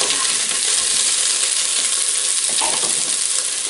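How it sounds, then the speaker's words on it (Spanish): Prawn heads and bodies frying in a pan, giving a loud, steady, close-up sizzle throughout with no pauses. "vamos a sofreír las cabezas y los cuerpos de los jambones"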